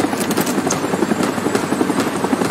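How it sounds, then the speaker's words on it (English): A helicopter in the video game Rising Storm 2: Vietnam sits on a landing pad, its rotor producing a steady, loud, rhythmic thumping drone close by. "We're in the helicopter that's like on the middle pad."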